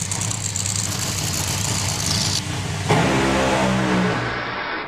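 An 11,000-horsepower Top Fuel dragster launches at Santa Pod Raceway with a loud, sustained roar that swells, then shifts into a deeper fading rumble as the car pulls away down the strip.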